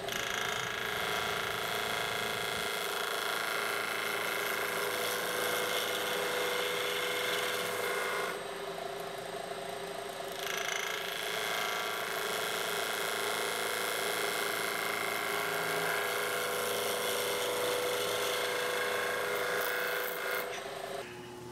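A spindle gouge cuts a round over on wood turning on a lathe, a continuous rough scraping rasp that carries on steadily, with one brief lull partway through.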